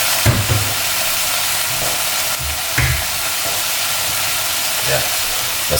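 Chickpeas hitting a hot pan, giving a steady loud sizzle and hiss with a few soft bumps and clatters from stirring, close by.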